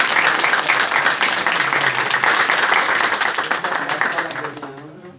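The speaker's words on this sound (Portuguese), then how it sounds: "Uma salva de palmas para ela" A live audience at a communication event claps in a dense burst, the applause holding steady and then thinning out and fading over the final second or so.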